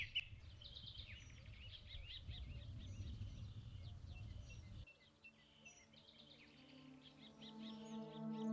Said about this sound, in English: there rose a sound never heard before on the front line. A dawn chorus of birdsong.